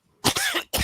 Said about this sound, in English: Step out for a moment so I can go cough my head off again.